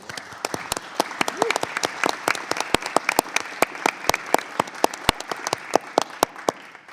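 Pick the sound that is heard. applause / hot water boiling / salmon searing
applause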